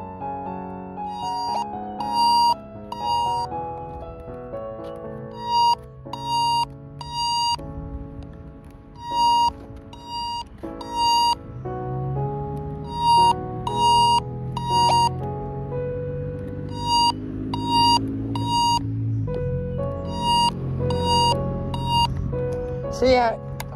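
Loud electronic beeping alarm from a RadioShack 12-143, sounding in repeated bursts of sharp tones, with a siren-like sweeping tone rising underneath partway through.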